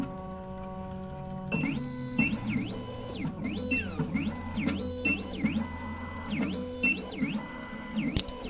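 A Triton PLUS key-cutting machine runs its calibration cycle with the S1 Automotive Jaw fitted, giving a steady mechanical whir with repeated rising and falling electronic whines and small ticks, close and continuous.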